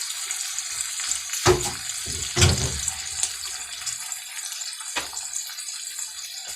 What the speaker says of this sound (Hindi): ये 2 गिलास हमने पानी डाल दिया इसमें।